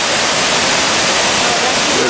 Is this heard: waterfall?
yes